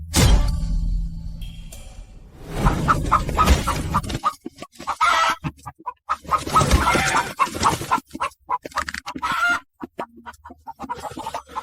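Chickens clucking loudly nearby in a few clustered bursts, with a rooster-like crow early on and scattered clucks and squawks continuing in choppy bursts.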